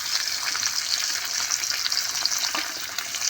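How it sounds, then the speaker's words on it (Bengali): Pieces of katla fish frying in oil for a fish kalia curry, with a dense, even sizzle close by and faint watery crackling, no voices. "সব মাছগুলো আমি একই রকমভাবে বেশ ভালো করে ভেজে নেব।"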